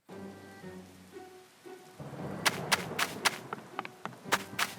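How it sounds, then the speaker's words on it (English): A game level's thunderstorm: steady rain patters on a surface while sharp thunder cracks strike repeatedly, close and crisp, after a quieter hum at the start. "Those rain sounds really make you feel like you're walking through a storm."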